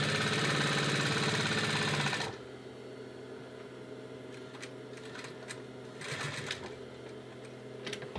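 A sewing machine stitches a seam of an ottoman cover for a coffee table, a loud steady whirring run that stops abruptly, followed by quieter motor hum and scattered clicks, close up.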